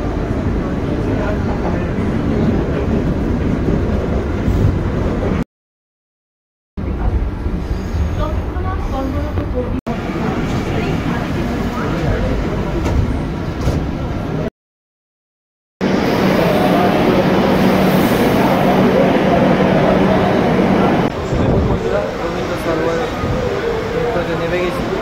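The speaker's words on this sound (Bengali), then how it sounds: "তো দেখুন পুরো ট্রেনের মতন অভিজ্ঞতা এই মেট্রোর মধ্যে।" A Kolkata metro train leaving Dakshineswar station rumbles steadily from inside the carriage, a loud continuous roar of wheels and motors that cuts out briefly twice.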